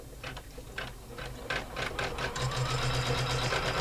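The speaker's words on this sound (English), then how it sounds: "and we stitch that outline down." An embroidery machine stitches down a tab outline for an in-the-hoop wallet, a steady rapid mechanical rattle that grows louder and more continuous as it runs, close and alone.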